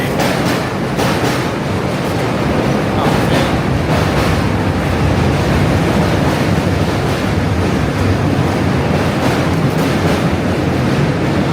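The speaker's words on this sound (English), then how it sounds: "The train!" A train rushes past on a Manhattan street during a walking commute, a steady loud roar with wind buffeting and rumble throughout, no voices.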